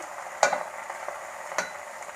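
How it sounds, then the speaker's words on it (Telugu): Spinach is stirred in a pan over browned onions, a faint continuous sizzle broken by two distinct utensil knocks against the pan, close and quiet, with no voices. "ఇప్పుడు పాలకూరను వేసేద్దాం పాలకూర వేసి కొంచెం ఇలా పెట్టినట్టు చేసి"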